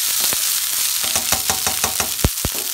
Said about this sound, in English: I'm gonna add my quinoa now. Stir fry all those flavors together.